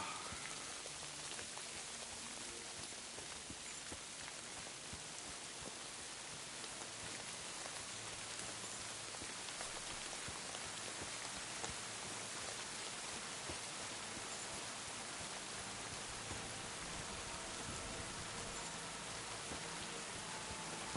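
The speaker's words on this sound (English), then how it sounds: "The rain sounds really realistic too." Rain in the video game Kingdom Come Deliverance 2, a dense, steady hiss of falling drops that holds evenly throughout with no pauses, soft overall and without talk.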